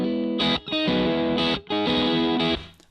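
G&L electric guitar on its middle pickup, volume knob halfway, played through a distorted amp: two strummed chords ring out with gritty, somewhat cleaned-up sustain before fading.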